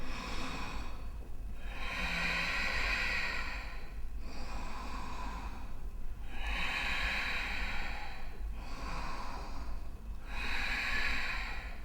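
Slow, deep breathing during a seated yoga shoulder stretch with a belt: about five long airy inhales and exhales in an even rhythm, close to the microphone, with no talking.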